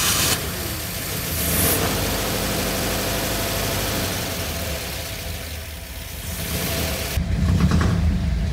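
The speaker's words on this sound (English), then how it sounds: "So I'm gonna start it up now with just these changes and we'll see if it runs any better" A 1985 Ford Bronco engine running after a new distributor cap and rotor, a loud close idle with a rough broadband rumble and a brief rev near the end, no talk.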